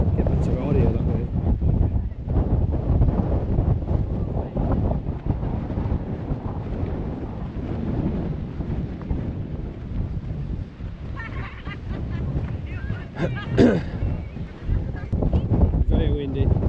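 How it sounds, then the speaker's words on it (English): Strong wind buffets the microphone on a hilltop at Arthur's Seat in Edinburgh, a loud continuous low roar with gusting surges throughout, and a voice speaks partly under it. "It's very windy."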